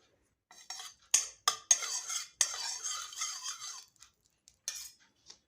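A metal utensil clinks and scrapes against a wok as ghee goes in, making a series of sharp, close metallic taps and rattles with brief pauses between them.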